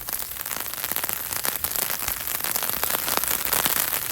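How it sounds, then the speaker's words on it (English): Heavy rain pours down steadily across a California garden, a dense, continuous patter of drops striking leaves and surfaces nearby, with scattered sharper taps and no voices. "It's getting even stronger,"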